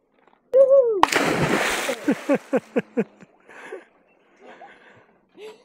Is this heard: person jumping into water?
yes